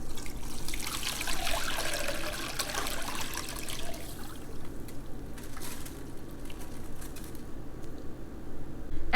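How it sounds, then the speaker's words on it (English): A blended rice and almond horchata mixture strained into a bowl makes a steady, close trickling and splashing of liquid that runs for several seconds and softens slightly toward the end. "Take the mixture and strain it into a bowl."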